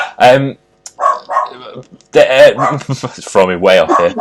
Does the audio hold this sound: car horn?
no